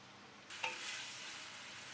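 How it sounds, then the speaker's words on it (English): Marinated Label Anglais organic chicken frying on high heat in a pot for a British curry, with a soft, steady sizzle and a brief clatter of stirring, quiet and close, with no talking. "add the marinated label Anglais chicken into the pot and fry on high heat for 5 to 6 minutes and keep stirring the pot"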